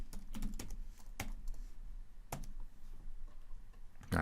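Someone types on a computer keyboard while coding an Angular form, scattered quick key clicks with a few sharper taps, close and clear with no talking.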